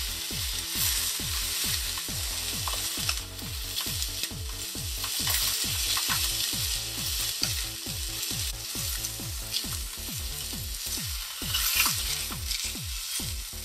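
Beef sears in a pan with sesame oil for roast beef, a steady close sizzle of frying with a rapid rhythmic ticking pulse running through it, no voices.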